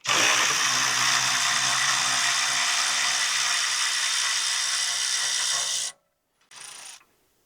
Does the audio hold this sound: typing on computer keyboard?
no